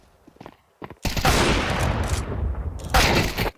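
Counter-Strike match gunfire: a few faint taps, then a loud sustained burst of rapid rifle shots followed by a second sharp volley, close and dominant.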